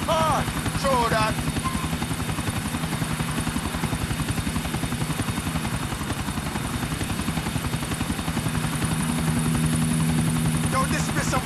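Helicopter in Grand Theft Auto IV, a steady rotor chop with a dense mechanical roar running loud and continuous throughout, with some speech heard over it.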